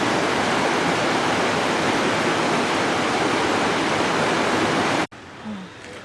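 Gold Creek, a cold, high mountain creek beside a forest trail, rushing loudly as a steady broadband roar for about five seconds before cutting abruptly to quieter ambience.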